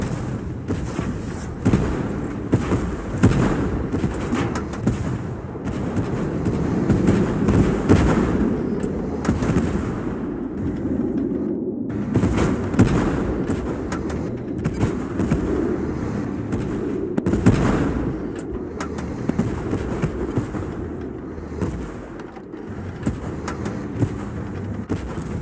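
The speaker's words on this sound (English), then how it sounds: "We're under fire." Tank gunfire in the video game Tank Force, a dense run of repeated booming shots and explosions, loud and continuous for the whole stretch with no talking.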